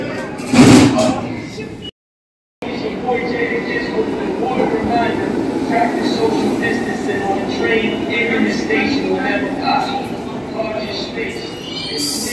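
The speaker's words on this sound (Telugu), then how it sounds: "సబ్వే నుంచి ట్రైన్ తీసుకొని వెళ్తున్నాము." A New York City subway train rumbles steadily underground near Times Square, a loud, continuous roar of wheels and carriage noise, with a brief break early on around the doors, while people talk over it.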